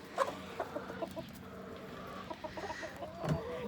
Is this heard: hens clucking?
yes